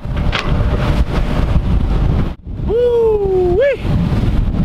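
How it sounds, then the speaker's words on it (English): A sailboat motors across the Gulf Stream under a constant roar of wind buffeting the microphone and engine drone, while a voice lets out a rising, wavering whoop partway through. "this is motoring. This ain't sailing."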